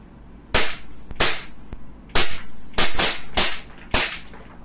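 Replica Glock 17 Gen 5 blowback pistol firing, seven sharp, loud snapping shots at an uneven pace over a few seconds, close up, with no talk.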